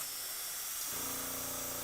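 An airbrush sprays Grex airbrush cleaner onto a paper towel, making a steady, close, loud hiss whose tone shifts partway through as the spray changes.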